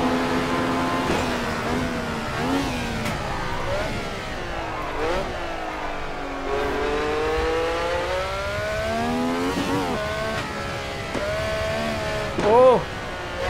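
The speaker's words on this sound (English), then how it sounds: "Why can I hear another car but I can't see him?" A race car engine in the Assetto Corsa racing game, loud and close, with repeated revving and gear-change sweeps rising and falling across the clip, with no talking over it.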